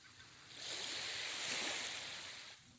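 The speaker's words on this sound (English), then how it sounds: "You hear the waves crashing." A single ocean wave swells and breaks into a soft, hissing wash, rising and fading over a couple of seconds, faint and distant with no voices.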